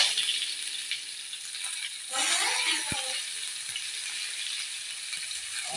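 Onions drop into hot oil for a meat curry, raising a burst of hissing sizzle over a constant background frying crackle.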